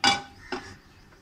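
A metal pan set down on a stovetop before frying neem flowers: one sharp clank with ringing decay, then a second softer knock and faint rattles, close and alone.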